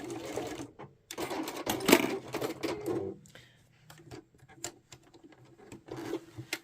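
A sewing machine runs a short back stitch over a seam on a quilted hot water bottle cover, close and moderately loud, with stop-start bursts of mechanical rattle and brief pauses between runs.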